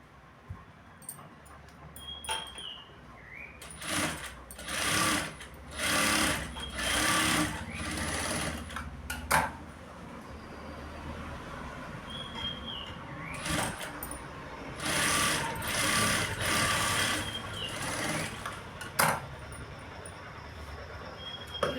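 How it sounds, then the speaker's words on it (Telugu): A sewing machine stitching blouse lining cloth, running in several loud whirring bursts of rapid needle clatter separated by pauses with softer handling clicks, close and steady, no speech. "పైనుంచి పెట్టుకొని స్టిచ్ చేయాలి."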